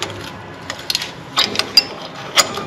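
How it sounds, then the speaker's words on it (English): Wrench working a nut loose on the rear brake assembly of a Club Car golf cart, giving sparse ratcheting clicks and metallic ticks in short bursts, close by and fairly quiet. "So we'll loosen this nut"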